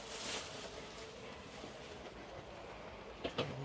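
A passenger train runs between Astana and Burabay in Kazakhstan with a faint steady rolling rumble inside the carriage and two brief knocks near the end.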